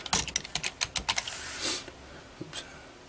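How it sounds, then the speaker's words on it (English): Rapid taps on a computer keyboard while tag fields are edited in music software, irregular clusters of crisp clicks with short pauses, close and fairly quiet, no talking. "I'm having a hard time typing"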